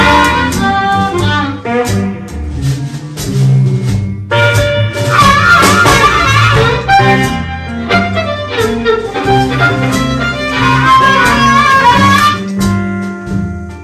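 An improvised blues harmonica solo is played in second position. The lick runs loud and continuous, with bent, wailing phrases over a low accompaniment, and no one speaks.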